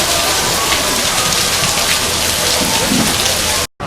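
Heavy rain pours in Mexico in September, a loud dense steady hiss of downpour heard up close. It continues without letup until a brief dropout near the end.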